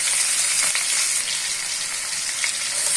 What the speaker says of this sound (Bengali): এবার পেঁয়াজ কুচি দিয়ে দিচ্ছি।